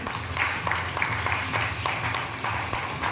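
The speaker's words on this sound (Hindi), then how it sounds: "एक बार मीना जी के लिए खुशी की तालियां हो जाए।" At a workers' meeting of a welfare organisation, an audience claps for a brand ambassador, giving a continuous, moderately loud patter of many hands with scattered sharper claps throughout and no speech above it.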